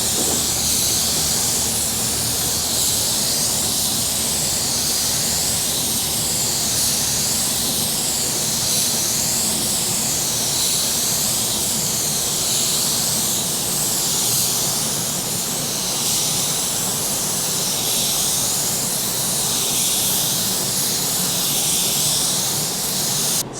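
A paint spray gun run from a small air compressor lays down clear coat, giving a loud, steady, close-up hiss that continues without a break for the whole stretch, wavering slightly in tone, with no voices over it.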